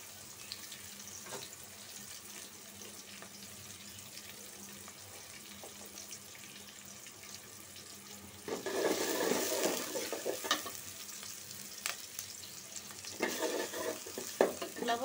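Onions and green chilies frying in a pan for a Bengali katla fish curry with pui shak, a steady low sizzle with stirring that swells louder midway and again near the end, with no talking.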